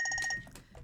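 A phone rings right beside the microphone, a rapid electronic chirping ringtone in short repeated bursts that fades partway through, fairly faint overall.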